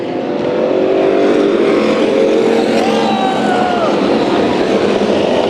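Street stock race cars roar around Orange Show Speedway, a loud sustained engine drone from several cars racing close together, rising and falling in pitch.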